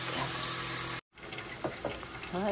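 Tap water running from a kitchen faucet to collect about four cups of filtered water for Filipino chicken tinola; a steady, close rush of flow that cuts off briefly, then resumes with clinks and a short voice near the end.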